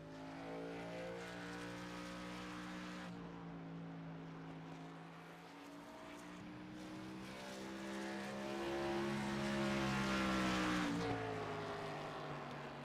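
A race truck on a qualifying lap at Bristol: engine howl rising and falling in pitch as it rounds the short oval, fading briefly then roaring louder and nearer toward the end, with no voices.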